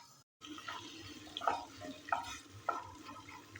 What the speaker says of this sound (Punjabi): ਹੁਣ ਆਪਾਂ ਕੜਾਈ 'ਚ ਤੇਲ ਪਾ ਦਾਂਗੇ ਵਿੱਚ ਪਾ ਦਾਂਗੇ ਅਦਰਕ ਲਸਣ ਦਾ ਪੇਸਟ